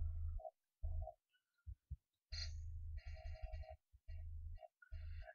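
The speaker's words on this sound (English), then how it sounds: "It's all bass, you see that?" Dubstep bass synth patch made with Sytrus in FL Studio: short, heavy low bass bursts in a choppy rhythm, each topped with buzzy upper harmonics, played loud and alone.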